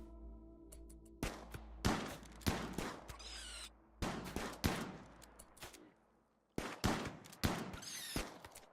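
Gunfire in the video game Rimworld: a series of sharp, loud single shots and short clusters, spaced irregularly with brief pauses between them, with no talk over them.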